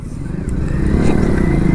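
Motorcycle with a faulty, noisy brake drum, heard as a loud, close, continuous rumbling engine with grinding, scraping undertones.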